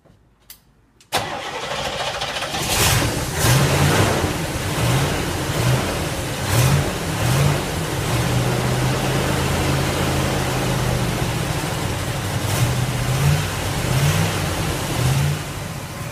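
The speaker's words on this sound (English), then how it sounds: "We'll fire this old bird up." An old Chevelle engine cranks and catches after a quiet second, then settles into a loud, rough idle. It is blipped repeatedly throughout, with rhythmic revs rising and falling close by, and there is no talking.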